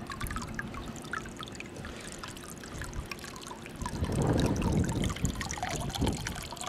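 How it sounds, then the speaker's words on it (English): Water from a solar pool heater pours into a container in a steady close trickle and splash, growing fuller and louder about halfway through. "let's put the water from the heat pump, the solar heater, into that"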